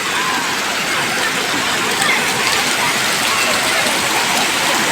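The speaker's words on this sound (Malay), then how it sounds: "nih kita ada di atas air terjun guys" A waterfall pours steadily from above, a loud, even broadband rush of water that holds constant and close throughout with no pauses.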